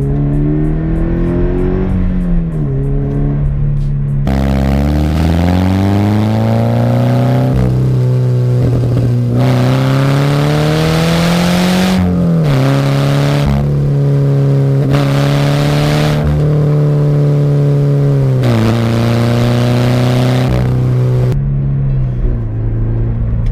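A Subaru BRZ fitted with a Buddy Club Spec 2 exhaust and a silencer accelerates hard, its engine note climbing through the revs in several loud pulls, each with a brief dip at the gear change.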